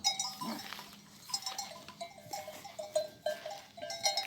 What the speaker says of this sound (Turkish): Şu an inekler yaylama gidiyor galiba.